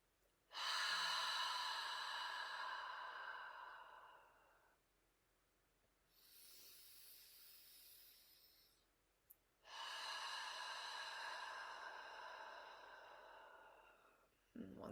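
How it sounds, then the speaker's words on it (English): Slow, deep breaths during a morning yoga session, each long airy inhale and exhale close and clear, separated by quiet pauses, with no talking. "We'll just take a few deep breaths here."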